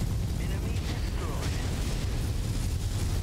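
Enemy weapons pound the player's mech in the Mechwarrior 5: Mercenaries video game, a dense, loud, continuous rumble of booming impacts and blasts with no break.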